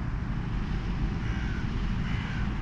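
Gulls calling outdoors, a few harsh cawing cries at mid distance over a steady low rumble of wind or distant aircraft, with no talk.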